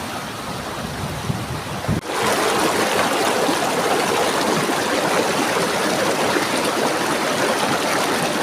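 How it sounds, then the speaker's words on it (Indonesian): A clear river stream flows beside a hut in a village on a mountain slope. After a brief softer start the water rushes loudly and steadily, close by, with no talking. "Kita coba ngadem di sungai di pinggir pondoknya ya."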